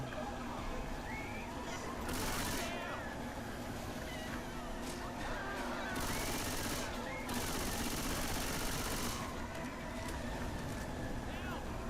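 Video game weapon gunfire comes in several rapid bursts of automatic fire, loud and separated by short gaps, while players talk over the action throughout.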